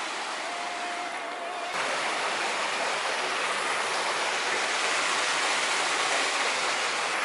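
A small creek flows with a steady, close rush of running water, continuous and even, with a brief cut partway through and no talking.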